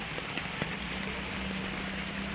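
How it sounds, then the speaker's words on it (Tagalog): Light rain, easing after a heavy downpour, patters steadily as a soft, even hiss, with a few isolated drops ticking louder now and then; no one speaks. "Ngayon medyo humina na yung ulan"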